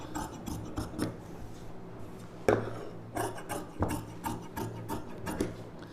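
Silk cotton blouse fabric is cut on a work surface, giving irregular rasping, rubbing strokes with short scraping bursts and a sharper knock midway, close and without talk.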